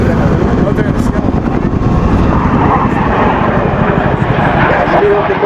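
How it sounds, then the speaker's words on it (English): A military jet passes over a Marine Corps airshow in a continuous loud broadband roar that holds steady throughout, with an announcer's voice and crowd noise mixed underneath. "There's a jet. Oh, there in the sky."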